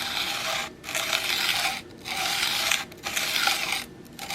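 A broadhead blade is sharpened on a 400 grit stone, making steady rasping strokes, about four long passes separated by brief pauses; close and loud with no talking.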